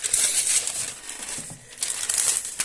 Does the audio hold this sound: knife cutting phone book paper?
yes